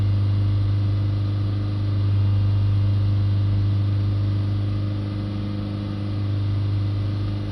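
A Vauxhall Movano van engine idles steadily at a held speed of about 3000 RPM, a constant droning hum with a strong low tone and little variation, close by and with no one talking.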